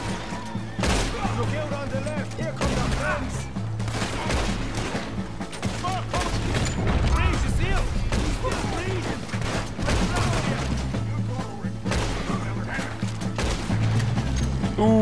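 Gunfire in the video game Red Dead Redemption 2 rings out through a mounted shootout, with repeated sharp shots and rapid volleys coming in dense clusters over background music and effects, loud and steady throughout.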